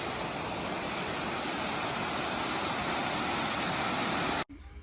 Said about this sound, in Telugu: Dumpavalasa water falls